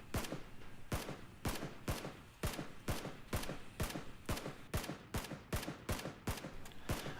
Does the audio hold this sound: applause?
no